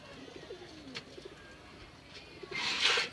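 A pair of Bagha pigeons coo softly in a loft, with several low, burbling calls at a moderate distance and faint chirps and a rustle toward the end, with no speech.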